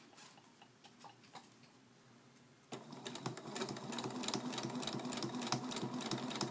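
A sewing machine stitches fabric with the presser foot lowered, starting with a few faint clicks and then running in a steady, fast mechanical chatter at close range.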